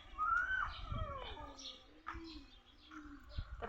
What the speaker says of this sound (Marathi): चिमण्या बिमण्या मस्त वराडतात का नाही